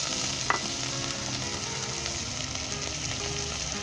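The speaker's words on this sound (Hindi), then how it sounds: "2 से 3 मिनट तक मैंने वेजिटेबल सौते कर लिया है" Vegetables sauté in a pan for spicy homemade egg noodles, a steady close sizzle with an occasional sharp utensil tap and no talking.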